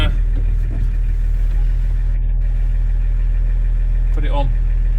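A VW LT35E 2.4 six-cylinder diesel drones with a low, constant burble while driving, loud and close inside the cab, with a voice speaking over it briefly.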